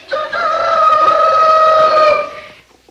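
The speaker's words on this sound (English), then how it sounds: "I tell you there's a rooster around here someplace" A rooster crows once, a long, loud, close call lasting over two seconds before trailing off into quiet.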